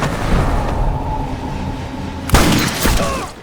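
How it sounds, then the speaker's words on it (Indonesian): Film gunfire from an assassin's attack: a low rumbling scene gives way to a sudden loud burst of shots and impact noise near the end, heavy and close. "si pembunuh kembar datang dan menembaki mereka"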